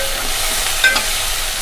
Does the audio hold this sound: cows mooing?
no